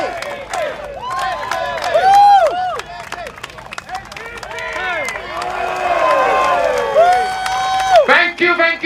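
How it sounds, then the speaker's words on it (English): Crowd clapping and cheering at a Singapore Democratic Party election rally in Marsiling-Yew Tee, with loud rising whoops and shouts over scattered claps, close and lively, with voices calling out throughout. "Round of applause."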